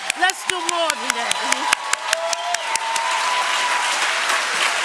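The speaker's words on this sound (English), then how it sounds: "Let's give Meridian Community College a real applause." Audience at a community college arts induction ceremony gives sharp, scattered claps that start sparse and build into steady applause, with a voice talking over the start.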